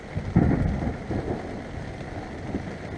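Heavy rain pouring down with a rumble of thunder at the start at Ndumo Game Reserve, a dense, even hiss of downpour on surfaces around a tent camp with no voices.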